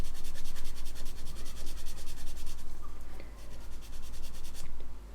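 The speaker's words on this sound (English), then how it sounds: "just by sanding across the part, just blending the two pieces together a little bit better" Sanding paper rubs steadily back and forth across a plastic scale model tank part, a close, continuous rasping with rhythmic strokes and a short pause near the end.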